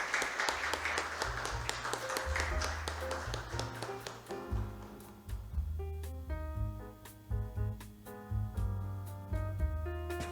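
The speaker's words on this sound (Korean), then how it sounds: "박수로 환영하며 모시겠습니다." Audience applause welcoming a keynote speaker at an international disaster resilience seminar, fading within the first few seconds as instrumental music with steady low notes takes over and continues to the end.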